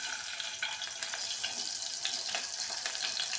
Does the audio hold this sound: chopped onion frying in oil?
yes